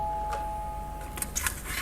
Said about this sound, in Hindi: कि घर की घंटी बजी।